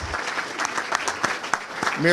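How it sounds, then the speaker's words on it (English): Audience applause at a city's state-of-the-city address, a steady patter of claps, moderately loud, with a voice starting up at the end. "If we can give them a round of applause over there."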